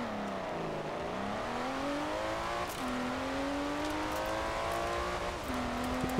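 Turbocharged V8 engine of a Maserati Levante in Forza Horizon 4 revs steadily, with rising and falling pitch as it shifts gears, loud and continuous without talk.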